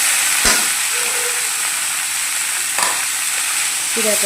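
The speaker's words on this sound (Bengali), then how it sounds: "দেখেন এই যে চিড়াটা আমি ভাজা নিচ্ছি সামান্য পরিমাণ।" Flattened rice (chira) frying in a pan gives a steady loud sizzle throughout, with a couple of sharp scraping stirs and faint background voices.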